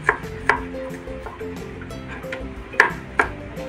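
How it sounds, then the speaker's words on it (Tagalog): Onion and garlic being sliced on a cutting board: a few sharp, sparse knife chops land against a steady bed of background tones, with no talking. "Gagayat-gayatin lang ganyan yung sibuyas tsaka bawang"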